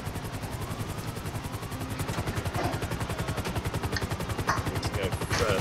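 Rapid, sustained automatic gunfire from a vehicle-mounted gun in GTA 5, loud and near, a dense rhythmic stream of shots over a low rotor-like drone, with talk faintly underneath.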